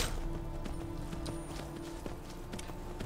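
Horse hooves galloping in the video game Skyrim, a fast, steady clip-clop of hoofbeats under a constant background wash with sharp periodic thuds.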